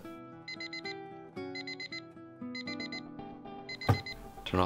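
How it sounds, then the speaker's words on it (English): An alarm clock rings with repeated clusters of high, bright beeps over a sustained tonal melody, followed by a couple of sharp knocks near the end. "Turn off the alarm."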